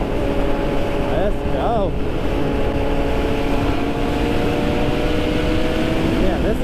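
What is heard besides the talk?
group of sport motorcycles riding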